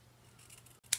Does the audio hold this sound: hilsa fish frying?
no